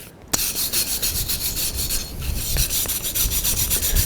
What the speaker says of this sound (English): Now I'm just kind of scrubbing it good. Get the oil scrubbed into it really,